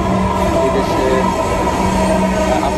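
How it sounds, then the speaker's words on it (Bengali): Metro rail train in Bangladesh, a steady loud rumble of the moving carriage with a low hum and faint wheel noise running throughout, no voices. "আপামর জনসাধারণের স্বপ্নের মেট্রো রেলে আমি চড়ব"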